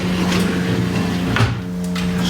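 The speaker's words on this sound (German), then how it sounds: "Hier sind Schubladen zum Ausziehen für meine Schrauben" Wooden workshop drawers for screws slide out with a couple of knocks and scrapes, close and fairly loud over a steady low hum.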